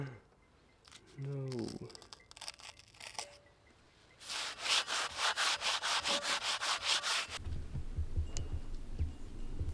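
Sanding paint off a wooden turntable: a rapid run of rhythmic, close rasping strokes, loud and even, with quieter scraping and handling earlier and a low rumble after.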